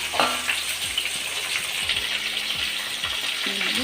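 Bottle gourd and drumstick pieces drop into hot garlic tempering in a pan for sambar, setting off a loud, steady sizzle with a few soft stirring clinks.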